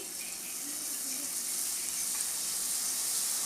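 Gram flour batter pours into hot oil for kara boondi, making a dense, continuous close sizzle and hiss that holds steady throughout.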